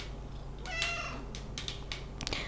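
A house cat meows a few times in short high calls, close and fairly clear against a quiet indoor background with soft rustling.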